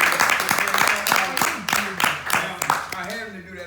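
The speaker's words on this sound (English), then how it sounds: "let's give the Lord a hand clap for" A church congregation clapping hands, a rhythmic burst of clapping with voices and shouts over it, fading toward the end.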